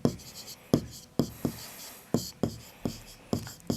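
A pen scratches out an angle estimate on paper in a run of short, rhythmic strokes, about eight to ten of them, close and fairly quiet.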